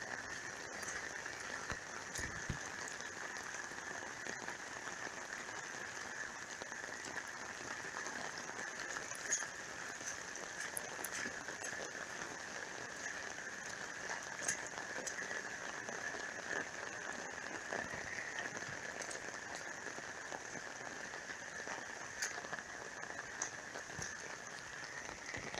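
Steady rain falls without a break, a continuous close hiss of drops striking surfaces that holds an even loudness throughout, with no voices over it.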